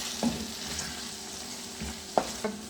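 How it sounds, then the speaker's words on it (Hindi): Spices including garam masala and fennel seeds get stirred into a pan, with soft sizzling under a few distinct scraping clinks of a spoon against the metal, close and fairly quiet. "इन सब चीज़ों को हम अच्छी तरह मिक्स कर देंगे"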